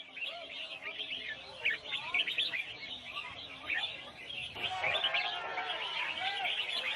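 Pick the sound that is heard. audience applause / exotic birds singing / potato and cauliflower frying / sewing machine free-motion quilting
exotic birds singing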